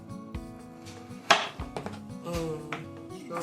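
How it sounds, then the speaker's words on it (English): Knife cutting up strawberries for a strawberry compote in a home kitchen, with a few scattered taps and clinks on the board and one sharper knock, close and fairly quiet, no talking. "I am cutting up some strawberries to make"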